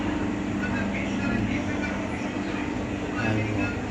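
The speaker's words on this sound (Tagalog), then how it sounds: "Yan ang takbo ng train." A train runs along the tracks on an afternoon journey, making a loud, steady, continuous rumble heard from inside the carriage.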